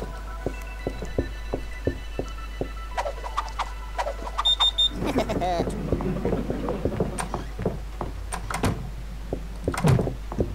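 A door opens in the Neighbours from Hell video game, a short creaking, rattling effect amid regular ticking game sounds and a low steady hum, with someone talking over much of it.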